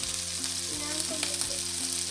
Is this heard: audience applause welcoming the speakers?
no